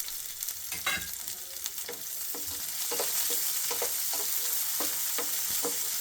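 Chopped onion pieces sizzle and fry in hot oil with cumin and garlic for a bitter gourd stir-fry, a steady crackling hiss with occasional scraping stirs, close and continuous.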